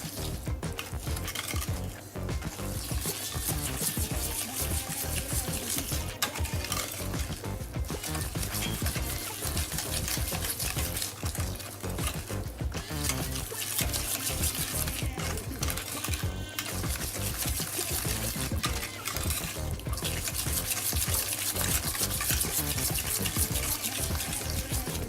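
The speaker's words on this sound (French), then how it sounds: "on remue jusqu'à temps que le beurre soit bien lié avec le sucre" Butter and sugar stirred together in a bowl for a lemon meringue tart give a steady run of soft scraping and clinking, close and continuous for the whole stretch, with no talking.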